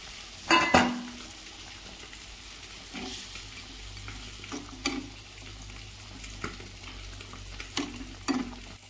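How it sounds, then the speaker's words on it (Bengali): Fried hilsa pieces go into a mustard curry in an iron wok. A sharp clatter and splash opens, then quiet, intermittent spatula scrapes and soft sizzling follow, fairly faint and close, with no voices. "এবার দেখতে থাকো, এর মধ্যে মাছগুলো দিয়ে দেবো, সব মাছগুলো দিয়ে দেবো।"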